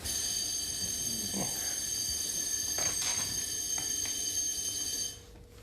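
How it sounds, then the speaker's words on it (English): A loud, continuous fire alarm buzzes steadily for several seconds on an upper floor of a building, then cuts out abruptly near the end. "we hear a loud buzzing on the 10th floor"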